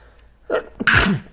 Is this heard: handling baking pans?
no